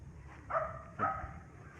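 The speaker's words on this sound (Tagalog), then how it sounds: "Tumataol na yung alaga kong aso." A pet dog on a rural provincial farm gives two short barks about half a second apart, moderately close against quiet background noise.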